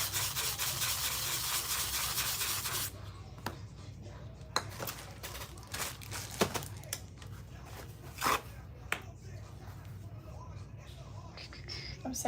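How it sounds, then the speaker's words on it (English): Sandpaper rubbing across the back of a glittered craft piece, with soft scratchy strokes and light taps after an initial loud noisy stretch, quiet and close, with faint background voices. "Go ahead and sand our back."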